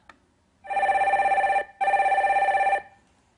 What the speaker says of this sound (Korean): 다음 전화 연결해 보겠습니다